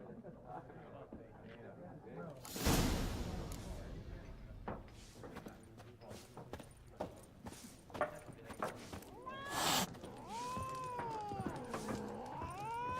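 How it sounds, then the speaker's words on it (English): A cat meows and caterwauls in the fantasy role-playing game The Witcher 3. A loud burst comes early and there are more calls later, set against game ambience, clopping hooves and quiet speech in the background. "Can I pet this cat?"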